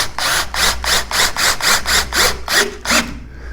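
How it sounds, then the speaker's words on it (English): A screw gun drives a screw into a 2x4 on an above-garage-door shelf build, with a loud, close, rhythmic ratcheting rasp of about ten evenly spaced pulses before it stops. "Take your screw gun"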